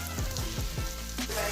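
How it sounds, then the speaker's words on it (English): Shrimp dangar fries in a pan, hissing and crackling steadily up close. A few soft knocks and scrapes sound underneath the sizzle. "Listen to the dangar sizzling"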